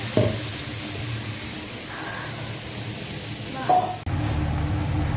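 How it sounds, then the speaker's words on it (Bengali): Onions sizzle and fry in a hot pan for a chicken dish, with a continuous hiss and crackle throughout and a voice speaking over the cooking. "আর লাল করে পেঁয়াজটা ভেজে নিচ্ছে"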